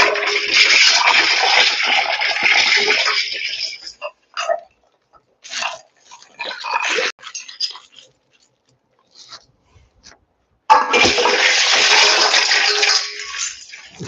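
Water pours from a big bowl into a cast iron pot during corned beef cooking, with two long, loud splashing streams separated by quieter clinks and short trickles.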